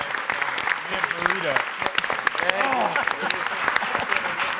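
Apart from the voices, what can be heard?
applause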